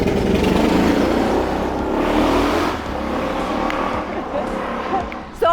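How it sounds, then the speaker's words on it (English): A motorcycle passes outside an apartment in Santo Domingo, Dominican Republic, its engine droning loudly then fading, with a person talking over it. "Sorry about that motorcycle."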